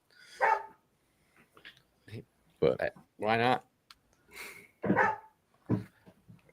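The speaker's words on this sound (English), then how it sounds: "Apparently the dog has something to say too." A dog gives a few short barks in the background of an indoor conversation, its brief yelps mixed in among several people talking.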